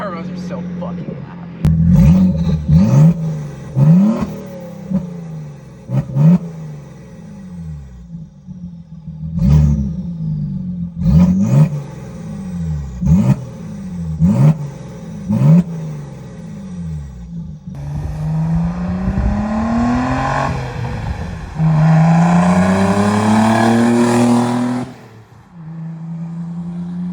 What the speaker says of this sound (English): The turbos are so fucking loud.